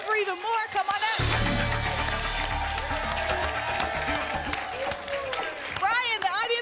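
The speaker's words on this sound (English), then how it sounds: "the audience is all cheering for you" A studio audience at a televised lottery game show claps and cheers in a steady, loud wash of applause, with a host's voice speaking over it at the start and end.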